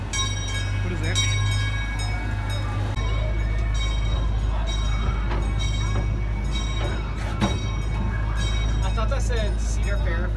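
An amusement park ride train rolls along with a steady low rumble and mechanical hum, while people chat throughout over the running noise.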